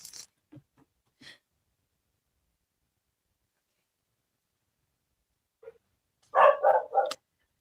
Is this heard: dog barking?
yes